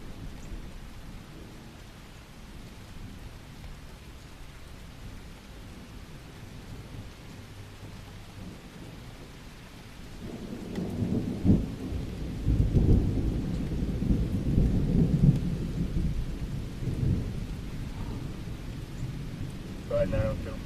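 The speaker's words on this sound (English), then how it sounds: "there's a lot of lightning hitting in the same spots" A thunderstorm over Pittsfield, Massachusetts: steady rain patters under a low rumble that swells midway into long, heavy rolls of thunder, with faint voices in the background.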